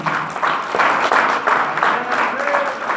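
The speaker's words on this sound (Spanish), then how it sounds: "Hermanos, un fuerte aplauso a Jesús en esta noche" A church congregation claps during an evening service, a continuous, swelling round of applause with some voices and cheering mixed in.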